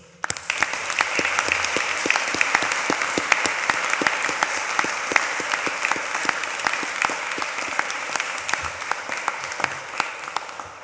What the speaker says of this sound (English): I think that you deserve a big round of applause